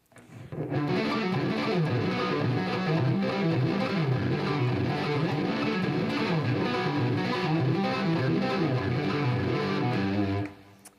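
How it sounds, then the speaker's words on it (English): An electric guitar plays a steady, continuous run of distorted arpeggios, notes rolling up and down in a quick repeating pattern with no talking. "string together the first arpeggio shape that I showed you starting on the low string"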